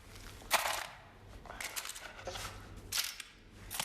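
MAC-10 open-bolt submachine gun in the video game Arizona Sunshine 2, heard as three separate sharp cracks spaced about a second apart over a low steady hum, moderately loud with no talking.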